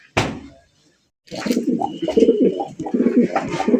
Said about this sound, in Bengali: আজকে তো দেখা যায় প্রত্যেকটা কবুতরে পাংখা পাংখা ডাকতেছে দেখা যায়।